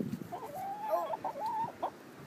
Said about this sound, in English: Crazy chickens are eating the eggs.